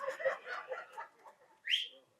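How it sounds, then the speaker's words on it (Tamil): A single sharp whistle from someone in a book-launch audience cuts through after a stretch of indistinct murmuring and faint voices, rising quickly and fading within half a second. "யாரோ ஒரு ஆள் விசில் அடிச்ச மாதிரி தெரிஞ்சுச்சு"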